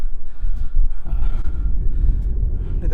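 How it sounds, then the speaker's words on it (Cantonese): Strong wind buffets the microphone atop the Guaita fortress in San Marino, a low, gusty rumble that roars continuously and close throughout. "啲風吹到發發聲"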